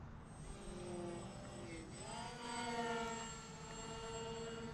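A Ritewing Nano Drak twin-motor RC plane drones steadily overhead with a high whining motor tone that rises and falls slightly in pitch as the throttle shifts, continuous and moderately distant.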